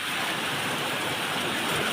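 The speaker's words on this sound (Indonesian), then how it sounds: "Ini hujan." Rain mixed with falling gravel and volcanic ash during an eruption of Mount Lewotobi Laki-laki in East Nusa Tenggara produces a loud, steady, hissing roar with no distinct pauses.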